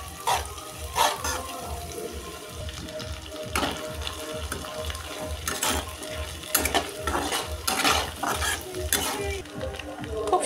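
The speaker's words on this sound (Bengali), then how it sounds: "রসুন, জিরে, আদা সমস্ত কিছু দিয়ে খুব ভালো করে নাড়াচাড়া করে নেব।" Garlic, cumin and ginger sizzle in a cooking pan in a village kitchen, with a spoon scraping and stirring in rhythmic strokes and metal clinks close by.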